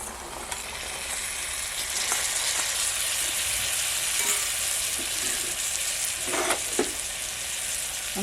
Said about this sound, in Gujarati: અને હવે નાખી દઈએ આપણે ચણા બાફેલા